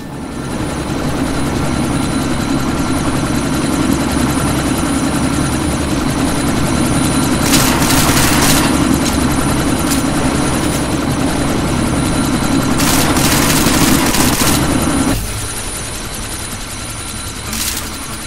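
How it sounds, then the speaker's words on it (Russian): A helicopter in the video game Deus Ex: Mankind Divided hovers close by with a loud, continuous rotor thump and engine roar. Brief hissing bursts rise over it twice, and the drone drops in intensity near the end. "Быстрее давай! Вертушка скоро уйдет!"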